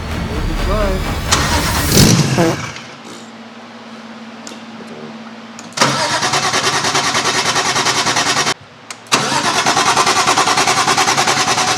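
A newly built engine cranks with a rapid, rhythmic whirr, catches and fires into a loud, rough idle, then cuts out briefly and restarts, with people talking nearby in a workshop.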